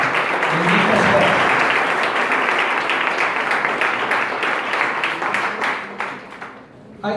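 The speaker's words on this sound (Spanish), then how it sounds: "Denle un aplauso a Jesús. Déselo bien fuerte." A church congregation claps loudly and steadily in a dense, sustained round of applause that starts out strong, gradually thins, and fades away near the end, with voices mixed in.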